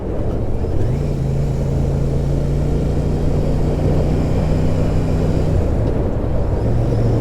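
A Royal Enfield Super Meteor 650 motorcycle cruises at 30 mph, a steady engine drone under loud, constant wind rush. The pitch holds level and shifts briefly near the end, with no talking.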